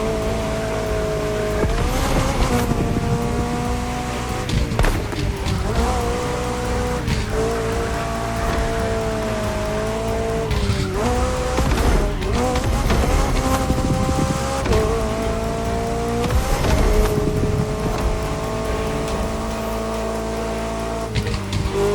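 Open-top McLaren sports car driving in The Crew Motorfest, its engine droning steadily and rising and falling through repeated gear changes for a long continuous run, loud and close with road and wind noise.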